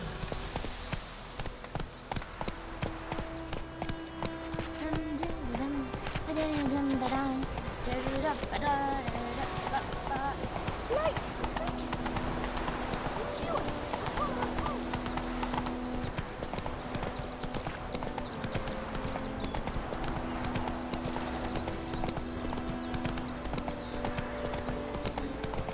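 Horse hooves clip-clop at a gallop in The Witcher 3 video game, a rapid continuous rhythm with the odd snort, under game music and a voice speaking.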